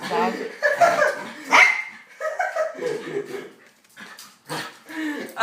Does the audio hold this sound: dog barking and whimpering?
yes